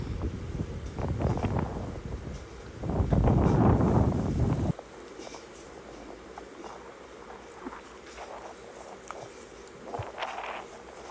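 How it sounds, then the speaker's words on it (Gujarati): Cool wind from the nearby Nyari dam near Rajkot, Gujarat, buffets the microphone hard and roars for the first few seconds, then settles into a softer, gusty rush. "અહીંયા તો ખૂબ જ સરસ પવન આવતો હતો"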